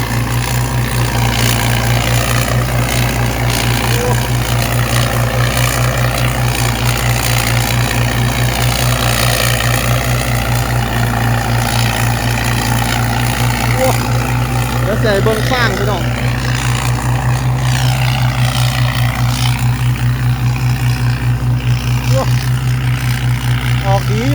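A combine harvester engine with twin turbos roaring steadily at close range, a loud constant low drone throughout, with someone talking over it.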